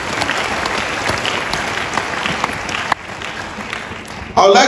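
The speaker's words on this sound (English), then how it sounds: "Please clap for yourself." A crowd of teachers at a World Teachers' Day celebration in Ogun State clapping together, dense sustained applause that holds steady, dips briefly, then swells louder again near the end.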